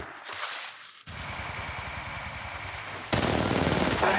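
Rapid automatic weapon fire in the video game Apex Legends Mobile, loud, close bursts of machine-gun shots with a short pause early on, then an even harsher, denser volley near the end.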